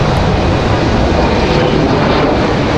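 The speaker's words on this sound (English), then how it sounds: "Breeze Airways up and out of here." A Breeze Airways airliner climbing out on takeoff from Raleigh-Durham International, a dense, continuous engine roar that stays loud and steady from start to finish.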